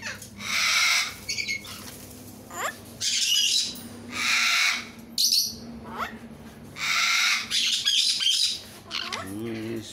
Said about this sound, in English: And here comes the gala parrot again.